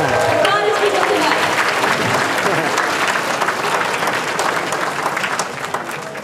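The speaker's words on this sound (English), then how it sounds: "Round of applause for those winners." Convention panel audience at Anime Expo applauding prize winners, a loud sustained burst of clapping with crowd noise and a voice over it, tapering off slightly near the end.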